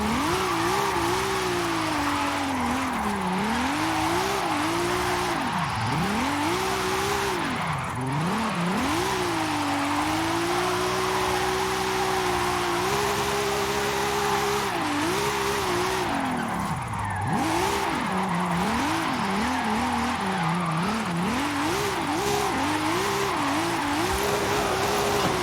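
A car in Forza Horizon 5 drifts, its engine revving up and down without a break while the tires squeal and skid. Loud and continuous throughout, with no talk.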